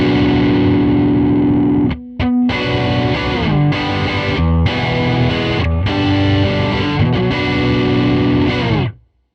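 An electric guitar runs through a Strymon Sunset dual overdrive pedal with the tone knob turned down, playing sustained, warm, moderately distorted chords and riffs with a couple of brief mutes. It is loud and close, and it rings out at the end.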